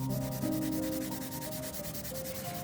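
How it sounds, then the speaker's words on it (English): Side of a charcoal stick rubbed back and forth across paper for relief-style mark making: a close, continuous rhythmic scratchy rasping with quick repeated strokes, steady in loudness, with a faint tonal hum behind it and no talking. "I'm using the side of the charcoal stick, just to see if it can be used like a relief print"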